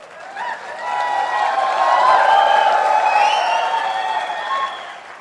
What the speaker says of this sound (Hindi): मैं आप सबकी जोरदार तालियों के साथ में इनवाइट कर रहा